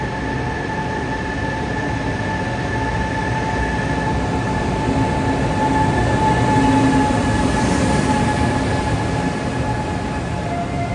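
A Jeddah to Madinah high-speed bullet train pulls into the station, its steady, loud rolling roar and hum filling the platform with faint whining tones and no voices.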